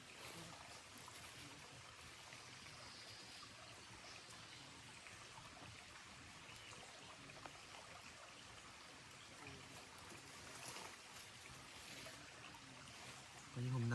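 A stream of water flows past in a cool, humid tropical rainforest, a steady, even rushing and trickling that continues throughout at a moderate distance, with no voices.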